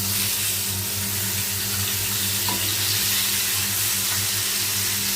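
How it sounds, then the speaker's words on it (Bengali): Fish fry in a pan in a hotel room kitchen, a steady close hiss and sizzle under a constant low hum. "এই মাছগুলি আসলে ভাজতেছি"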